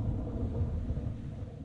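Deep, continuous thunder rumble from a storm in the horror video game Man of Medan, a steady low roar sustained throughout with no voices over it.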